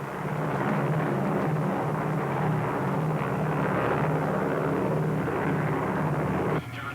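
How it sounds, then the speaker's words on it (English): Grumman S-2 Tracker anti-submarine aircraft engines give a steady, loud propeller drone with a low throbbing hum that stays constant and shifts slightly near the end. "Grumman Trackers, each a deadly tracking and weapons system for fast search, detection, and kill."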